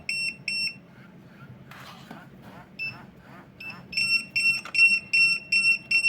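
Rapid bursts of high-pitched electronic pager beeps in fast mode repeat quickly, pausing briefly, then resuming in a fast, insistent pattern, with a voice talking in between.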